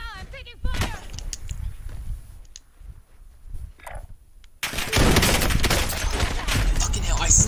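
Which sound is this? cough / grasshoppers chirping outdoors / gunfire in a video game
gunfire in a video game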